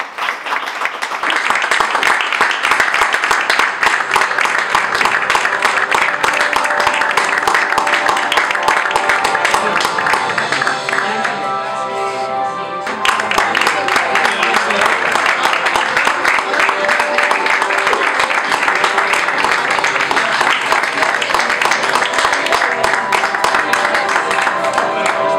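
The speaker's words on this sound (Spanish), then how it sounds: "Fuerte aplauso" Audience at a film festival closing ceremony applauds in long, dense, continuous clapping, briefly dipping with a tonal musical sound around the middle before the applause swells back up and carries on steadily.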